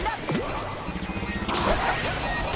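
A bomb thrown by opponents blasts in the online dodgeball game Knockout City, a sharp crashing impact midway through busy, clattering game sounds.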